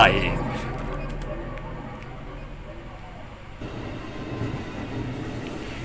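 A train in the Tsugunohi horror video game rumbles past in a continuous, fairly loud roll with a rhythmic clatter, while someone talks over it.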